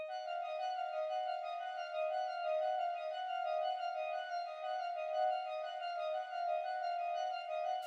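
The Atomic Bloom synth preset in Analog Lab plays a repetitive pattern, a steady tonal drone with a rich stack of overtones and a gentle pulsing texture, sustained evenly and alone.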